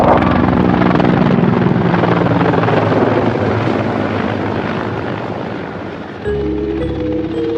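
Mi-24 combat helicopters performing aerobatics give off a loud, continuous rotor thump and turbine roar that stays close and steady, with a sharp shift in tone near the end.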